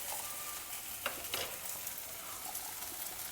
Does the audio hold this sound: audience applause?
no